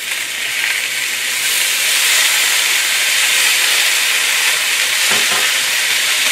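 Rice vinegar hitting a hot pan of gochujang chicken stir-fry, giving a steady, loud, close hiss and sizzle of steam that runs on without a break, with no voices.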